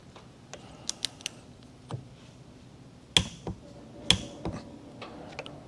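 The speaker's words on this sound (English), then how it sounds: "Now we're going to put our torque wrench on it, and we're going to torque it down to 33 foot-pounds." A torque wrench tightens an injector nozzle on a VW TDI 1.9L diesel engine. Light ticks are followed by two louder, sharp clicks from close by, with a few small mechanical taps after them.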